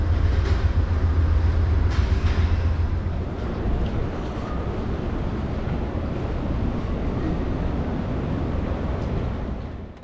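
A steady, loud rumble of an Amtrak California Zephyr passenger train rolling along the tracks into Denver station, with rattling carriages and occasional clanks, gradually easing as it slows. No voices.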